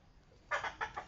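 Hens cluck at the farmers' nesting spots where a hen sits on eggs close to hatching: a few short, fairly soft clucking bursts, spaced unevenly after a quiet start.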